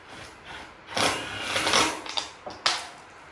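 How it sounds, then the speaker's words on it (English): A power drill drives screws back into a wooden whelping box for an American Bully, giving short whirring bursts and a couple of sharp clicks close by. "I'm just shooting the screws back in."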